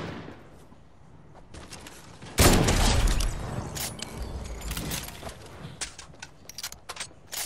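Gunfire in the Fortnite video game: a sudden loud burst of shots followed by a scatter of sharper cracks and pops at irregular intervals, fairly close, with no talking.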